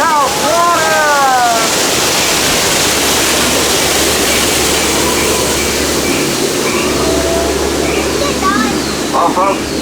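A loud, steady roar of falling water from the waterfall on the Disneyland Jungle Cruise boat ride in California fills the whole stretch, with a guide's amplified voice speaking over it.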